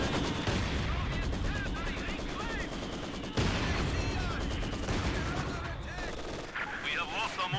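Mortar rounds in Company of Heroes 2, including an Ostmortar on auto fire, thump and explode repeatedly in dense, continuous battle din, with heavy impacts near the start and midway amid layered gunfire and game effects.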